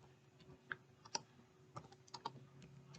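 Soft, irregular clicks of typing on a computer keyboard, a handful of keystrokes spread over a few seconds, faint and close against a low steady hum.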